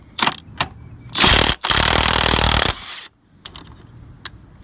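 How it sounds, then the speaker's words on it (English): A 1/2-inch impact wrench with a socket spins off the axle nut on an Acura Integra: several short, loud bursts of hammering whir up close, with clicks and clanks before and after. "socket, 1/2-inch impact, making light work of this axle nut"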